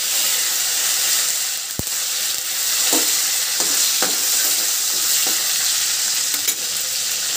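Onions fry with cumin seeds in a pan, producing a loud, steady hissing sizzle close by, punctuated by a sharp knock and several faint spatula scrapes and pops.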